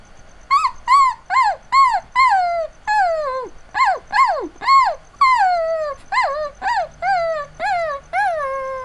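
A human voice imitates a newborn puppy with a run of about fifteen high, squeaky whimpers and yips, close and loud, rising and falling in quick pulses with short gaps between them, with no other talk.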